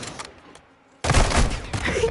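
Loud, dense game gunfire from Modern Warfare 2 erupts after a quieter opening stretch, sustained bursts of automatic fire and explosive hits filling the second half, with no talk over it.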